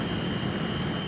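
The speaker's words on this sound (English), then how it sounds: "it's the sound of natural gas-fueled turbines, basically jet engines that are powering this data center" Natural gas-fueled turbines, essentially jet engines, power a data center with a constant, loud, roaring drone that carries a steady high whine and never rises or falls.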